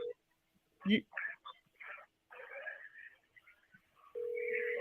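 Telephone ring tone heard over a phone line during a call, a steady beep at the start and again sustained at the end, with soft voices talking in between.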